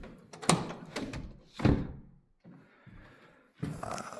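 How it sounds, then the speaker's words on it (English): A dog door flap at a house swings open with several hollow thunks and knocks, loud and close, separated by brief quiet gaps. "Got a dog door."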